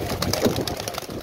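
Pet pigeons of several breeds coo on a rooftop loft, soft rolling calls close by amid faint ambient clatter and movement.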